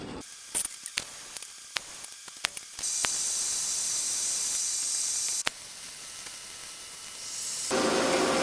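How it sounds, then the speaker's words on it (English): Welding tacks on a 3/16 inch steel roof rack for a 3rd gen Toyota 4Runner: a few short crackling bursts, then a long steady hissing, sputtering arc that runs for several seconds before a change in tone near the end. "So yeah, start getting this thing tacked up and weld it in place."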